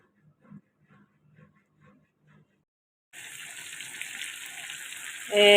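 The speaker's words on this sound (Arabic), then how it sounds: "انا عندي هنا السمك كده يا بنات بقليه كده" Flour-coated, spice-marinated fish lowered into hot oil after a few soft kitchen clatters, then a loud, steady crackling sizzle that swells even louder near the end.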